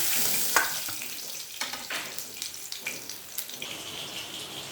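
Steady crackling sizzle of rohu fish frying in oil with scattered pops and light clinks, no voices.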